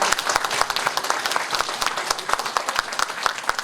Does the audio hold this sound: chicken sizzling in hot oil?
no